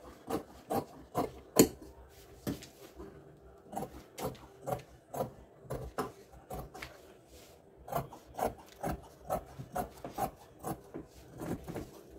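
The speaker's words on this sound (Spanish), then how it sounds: "voy a cortar la parte del delantero, donde también estoy cortando 2 piezas de lino y 2 piezas de forro" Scissors snip repeatedly through linen fabric pieces and lining, a quiet run of crisp rasping cuts in an uneven rhythm with short pauses.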